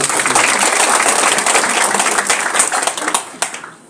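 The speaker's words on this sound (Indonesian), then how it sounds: "Tepuk tangan sekalian." A crowd claps steadily at an Indonesian political rally for the Prabowo-Gibran campaign, loud and dense at first, then thinning into scattered claps that fade out.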